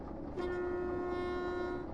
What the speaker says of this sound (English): Honk the horn.